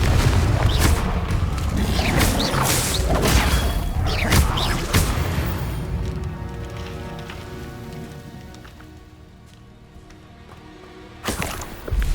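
Repeated Confringo fire-blast spells explode during combat in Hogwarts Legacy: dense, loud bursts and booms crowd the first half, then fade into a softer ringing tail with a final sharp blast near the end.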